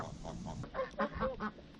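Geese on a farm honk in a few short, nasal calls, fairly close, over a noisy low background.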